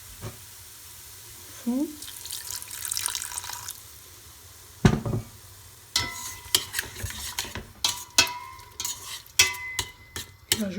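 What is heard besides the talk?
water added to sizzling chorba base in pot, stirred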